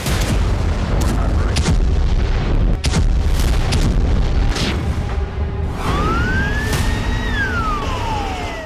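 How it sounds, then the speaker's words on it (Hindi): A chaotic burst of booming blasts and crackling at a large Ukrainian military base, followed by a rising and falling siren wail, all loud and close. "यूक्रेन के किसी बड़े सैन्य ठिकाने पर होते हैं धमाके।"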